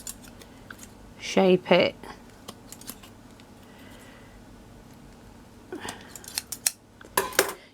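Scissors snipping a V shape in small material for a handmade miniature laundry room, two quick close cuts followed by lighter snips near the end, with a soft voice speaking over a faint background hum.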